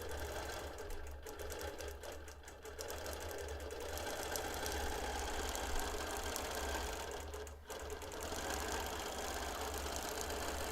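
A BERNINA longarm quilting machine running on Q-Matic edge-to-edge hums with a steady rapid mechanical stitching drone, continuous and close, with a brief dip in sound near the end.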